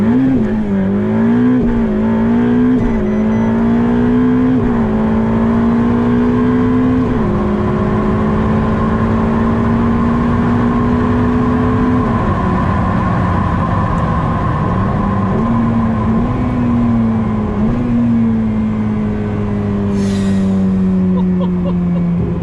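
Ferrari 488 Pista engine accelerating hard, a loud continuous roar that rises in pitch through several gear changes, each upshift dropping the tone before it climbs again, with no pauses.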